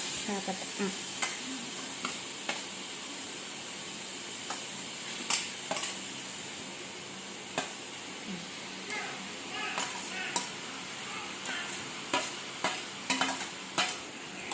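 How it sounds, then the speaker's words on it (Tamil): Chopped onions and vegetables sautéing in a pan for a chicken sandwich filling make a steady sizzle, with regular spoon scrapes and clinks tapping through it at close range. "இப்போ இது நல்லா வதக்கிக்கலாம்."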